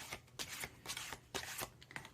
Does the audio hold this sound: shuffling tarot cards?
yes